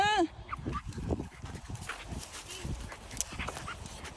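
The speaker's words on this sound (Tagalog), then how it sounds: "Amo ang dogs, grabe ka hyper." Hyper dogs playing at a dog park in Finland, with repeated yips, whimpers and short barks scattered across the clip, mixed with nearby talking and outdoor movement.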